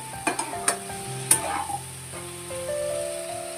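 A spoon stirs softened vegetables in a pan for Bengali fish curry, giving a few sharp scrapes and knocks over a steady low sizzle, close and fairly clear with no talking.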